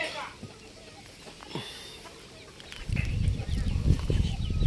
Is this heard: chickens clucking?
yes